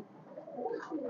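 A male Chuha pigeon gives one short, soft, rolling coo, close by and alone.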